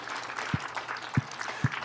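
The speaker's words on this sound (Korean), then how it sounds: "우리 하나님 앞에 감사 박수 한번 합시다." A church congregation claps together in thanks during a worship service, a steady wash of applause with a few low thumps, no speech over it.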